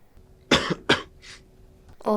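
Two sharp, close coughs in quick succession from one person, followed by a softer breathy exhale and the start of another cough at the end.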